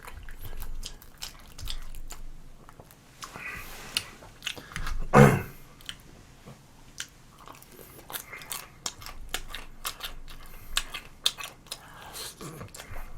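Close-up chewing and biting on spicy tteokbokki and fish cake, soft wet crunches and mouth sounds in an uneven rhythm, with one louder bite midway and faint background noise.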